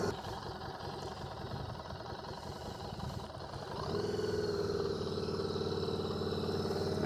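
A Harley-Davidson motorcycle engine rumbles at low speed, then the throttle rises midway into a steadier, louder drone, with faint background voices.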